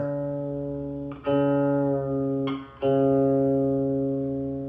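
A sustained plucked guitar string note held steadily, re-struck twice as its pitch is adjusted slightly during tuning, with no talking.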